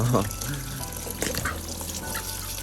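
Water splashing and pouring close by for poultry to bathe in, with trickling and dripping sounds and a voice faintly heard underneath.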